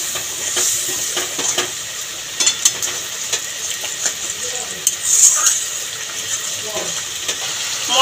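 Spices frying in a pan, crackling with a light sizzle under intermittent stirring and clinks of a utensil against the pan, close and moderately loud, with no talking.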